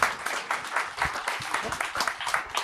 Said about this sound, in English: the people will applaud you right now